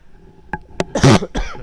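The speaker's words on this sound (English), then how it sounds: "Not trying to cough at you, sorry." A short run of coughs during a medical lecture, a couple of quick sharp ones followed by a louder, harsher burst and a final cough, close up with no talking.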